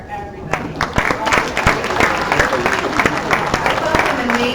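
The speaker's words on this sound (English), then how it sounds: "Just another one big round of applause for everybody." Audience at a live-streamed event gives a round of applause for everyone, sharp individual claps building into steady clapping, with voices talking over it.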